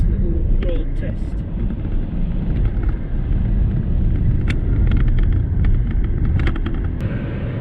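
A 2019 VW Touran on a road test drive, steady interior road and engine rumble throughout, with a person speaking over it.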